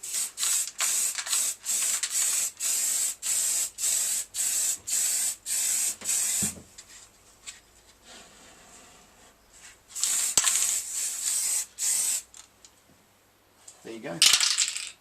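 Spray can laying a primer coat on a Harley 883 Iron belly pan in a garage, a fast run of short, sharp hissing bursts followed by a pause and then a few more bursts.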